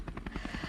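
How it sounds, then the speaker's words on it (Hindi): A helicopter flies overhead, its rotor thudding in a steady rapid beat over a dense engine rumble, heard from inside the cabin with no talking. "चॉपर उड़ रहा है ना भाई"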